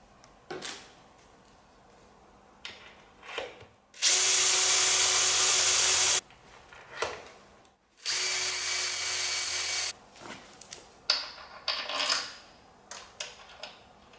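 A power drill bores through a drill guide used to mount an e-bike part at an angle, running in two steady whirring bursts of about two seconds each. Clicks, clatter and handling noises fill the gaps between the bursts.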